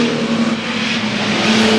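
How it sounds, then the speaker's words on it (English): Race cars set off at Arlington Stadium, a dense, loud roar of several engines droning and accelerating together without any voices. "Away go the cars."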